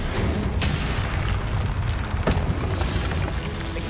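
A spell explosion in Hogwarts Legacy, the fire-blast Confringo, erupts as a loud, dense booming roar that fills the whole stretch, with sharper burst peaks near the start and middle and no voice.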